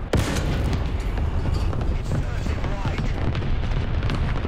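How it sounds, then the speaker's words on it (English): Artillery fire in the tank game War Thunder: booming cannon blasts and explosions that run together in a loud, continuous battle din, with muffled rumbles and bursts throughout. "Had pretty decent accuracy on that artillery."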